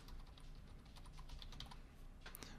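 Keystrokes on a computer keyboard as a web address is entered into the Chrome browser, a quick, close run of soft clicks continuing steadily for a couple of seconds with no talking.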